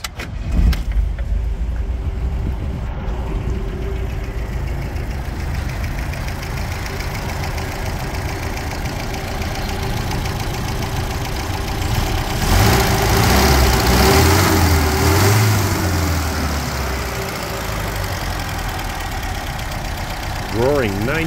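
A 1969 MGB convertible with an added oil cooler, rated at 92 horsepower, runs at a steady, close idle throughout. The engine swells slightly louder around the middle before settling back to an even idle.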